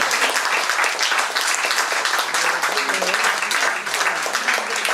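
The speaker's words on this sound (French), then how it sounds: "On peut l'applaudir très très fort, vraiment." A crowd applauds steadily and energetically, dense clapping throughout at an even, fairly loud level, with no speech over it.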